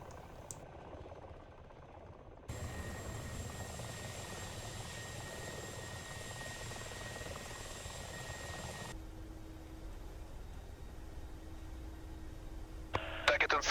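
An Mi-24 helicopter in a video game thrums as a steady rotor and engine drone, close and even, and the tone shifts partway through as the game's sound changes. Radio-style voices talk over it.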